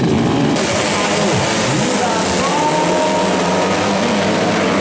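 Grasstrack motorcycles racing at the Pasar Kamis village circuit in a Super Grasstrack Championship event, a loud continuous engine roar with revving pitch sweeps, steady throughout under faint voices.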